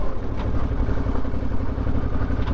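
A motorcycle engine rumbles loudly and close on a sandy Florida ride, holding a steady throbbing drone through the short moment with no clear separate rev spikes.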